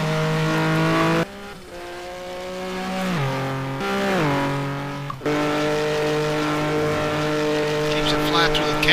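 Racing video game car screaming at full throttle in a GT2-class race around Road America, engine pitch climbing and dropping sharply through gear shifts, loud and continuous with a commentator talking over it.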